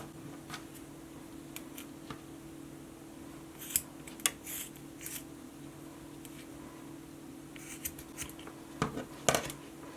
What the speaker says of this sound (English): I'm going to cut about 1/4 to 1/2 inch up from the collar